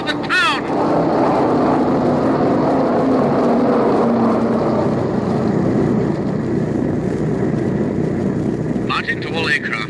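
Droning piston aircraft engines of a wartime bomber formation in an old time radio drama, a loud continuous rumbling roar holding steady for the whole stretch, with a voice breaking in briefly at the start and end.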